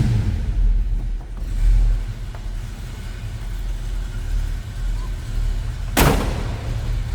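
A single solid thud of a car door shutting on a 1969 Ford Mustang Fastback with a 302 V8, sharp and close, over a low engine rumble.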